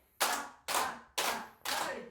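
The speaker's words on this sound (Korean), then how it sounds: "박수" Four sharp, evenly spaced hand claps ring out in a group exercise session at a seniors' center, each crisp strike decaying before the next, with no voices during the claps.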